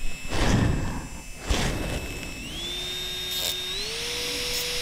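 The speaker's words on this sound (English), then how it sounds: "this drill should be going a bit faster, but it's not" Small glass engraving drill running slower than it should while a green stone bit works a glass paperweight, giving a thin, steady high whine that rises in pitch partway through, after a couple of soft thumps near the start.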